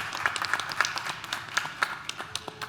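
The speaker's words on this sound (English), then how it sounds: "please, a round of applause to all the pitches so far" Applause for start-up pitches at a conference event, scattered hand claps with a steady, moderately close rhythm over a light room background.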